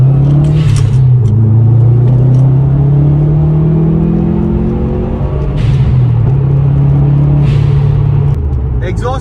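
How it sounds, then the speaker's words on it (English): A Ford Sierra Cosworth running on a rolling road, its engine droning loud and steady with a few sharp exhaust pops breaking through, while someone talks over it. "Exhaust popping."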